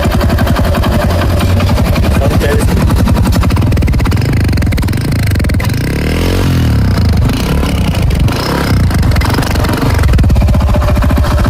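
Up close, a freshly restored Hero Honda CD100 motorcycle engine putters loudly at a steady rhythmic idle, rising briefly in a rev and settling back down midway.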